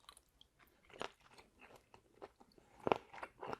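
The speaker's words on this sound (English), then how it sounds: "And I get a little bit of crunch." Close-up crunchy chewing of saucy pan-fried seafood noodles with shrimp, wet, irregular bites, one louder crunch standing out, and no talking.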